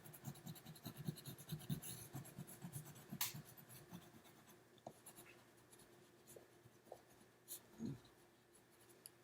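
A magenta wax crayon scratches and rubs across paper up close, with quick irregular strokes, soft and quiet, with no talking.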